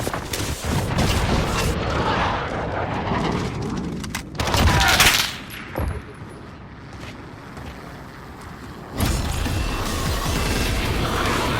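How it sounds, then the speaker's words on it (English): Sustained heavy gunfire and rumbling from a VTOL airstrike in Call of Duty Modern Warfare beta, dense and continuous with a louder burst near the middle and a renewed surge toward the end. "Got a VTOL on station, ready to deploy. Target marked. Let him have it."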